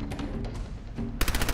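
Rapid automatic gunfire in the Fallout 4 video game, a short burst of quick repeated shots that hits hard near the end of the clip after a stretch of lower, muffled game noise.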